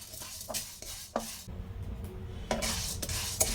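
Chana dal being dry-roasted in a pan for kuzhambu powder, a close scraping stir of the spatula with brief metallic scrapes and a soft rustle of lentils between strokes.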